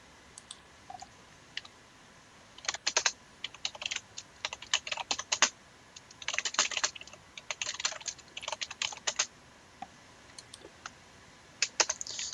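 Typing on a computer keyboard: irregular bursts of crisp key clicks, close and fairly quiet, with short pauses between runs and no talking.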